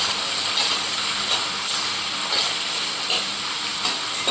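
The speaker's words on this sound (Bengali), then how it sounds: "অ্যাড করে দিচ্ছি অল্প আলু। এটাকে ভেজে নেবো ভালো করে।" Potatoes frying in hot oil for an okra and poppy-seed dish, giving a steady broadband sizzle and hiss that holds evenly throughout with no talking.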